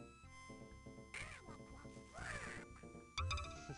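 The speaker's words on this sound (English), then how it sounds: "We get to hear Donald's voice here." Donald Duck's squawking cartoon voice in the Sega Genesis game World of Illusion, on the magic carpet level. Several short nasal quacking bursts ring out over steady chiptune game music.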